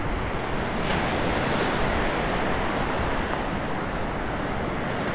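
Ocean waves break steadily on a wilderness coast beach, a continuous broad roar of surf mixed with wind noise, with no voices.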